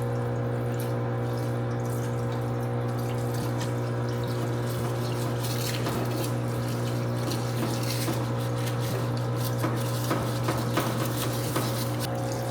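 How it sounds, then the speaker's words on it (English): Running water washes lightly over Bobcat hydraulic valve slices, a steady close splashing hiss with scattered drips and clatter, over a constant low mechanical hum. "I'm going to just wash off these things lightly this first time"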